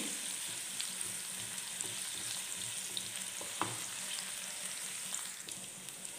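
Chopped garlic fries in a pan with a steady close sizzle and crackle that holds for several seconds, along with a few light clinks of stirring and no voices.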